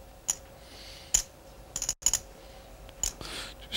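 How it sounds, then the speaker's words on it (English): Poker chips are shuffled and riffled at a heads-up poker table, giving sharp, irregular clicks and clacks in small bursts against a quiet background. "Just shuffling his chips, riffling them through"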